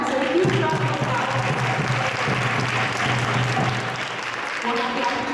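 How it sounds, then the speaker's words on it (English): An audience claps in welcome for a guest at a temple gathering, steady clapping from many people throughout, with speech over part of it. "So a huge round of applause."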